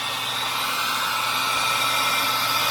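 A heat gun blowing hot air onto alternator wiring on a 1974 Dodge Charger with a Chrysler solid-state regulator, a loud, steady, close-up airy roar that runs unbroken throughout.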